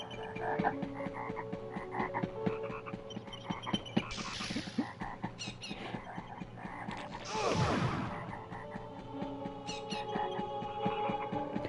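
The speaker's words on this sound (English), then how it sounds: "these fucking frogs are sitting there pelting me" Spiked frogs croak in the video game MediEvil, with repeated low croaks and squelchy game effects over a droning ambient background, including two louder bursts, and no one speaks.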